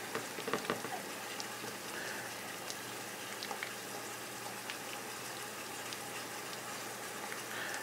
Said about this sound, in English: We just want to brown it, get some of that juices in with the bacon grease